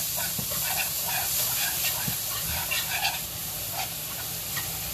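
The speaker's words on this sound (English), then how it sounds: "You want to hear that sizzle." Onions sizzle and hiss steadily in a roux in a hot pan, a dense continuous crackle heard close up and alone.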